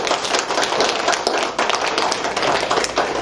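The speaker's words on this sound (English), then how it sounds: "So let's give a round of applause to Marsha." An audience at an intern graduation event claps for an honoree, a short burst of close, uneven individual handclaps layered into brisk applause.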